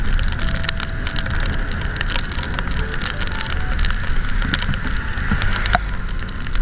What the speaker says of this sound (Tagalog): Ano yan, umuulan.